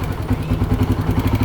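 Motorcycle engine running at a light, steady rev during a battery charging check in a workshop, a low rhythmic pulsing throb held close and fairly loud for the whole moment, with no talk over it.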